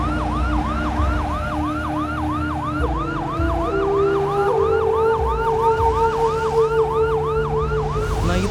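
An ambulance siren wails in a steady rapid up-and-down cycle, loud and close, sounding continuously over low road traffic rumble with no talking.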